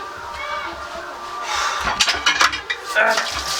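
Kitchen dishes, pots and utensils clatter in a home, with a series of sharp clinks and knocks that grow busier toward the end. A voice is heard faintly in the background.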